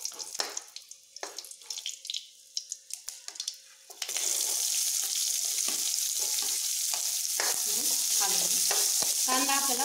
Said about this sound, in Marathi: कांदा आपल्याला ब्राऊन होईपर्यंत तळून घ्यायचा आहे.